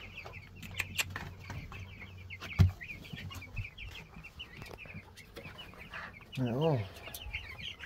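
A pen of about 65 meat chickens mixed with meat ducks, clucking and chattering continuously at close range, with sharper calls scattered throughout, a louder burst near the end and a brief voice over the flock.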